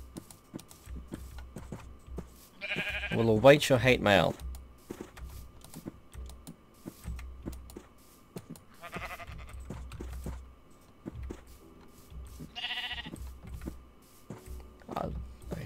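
Minecraft sheep bleats in short nasal bursts, several spaced across the stretch and loud against a quiet game background, with a faint steady hum beneath.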